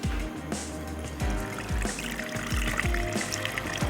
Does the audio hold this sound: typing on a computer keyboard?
no